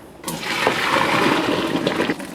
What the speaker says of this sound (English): Okay, so drain all that water out.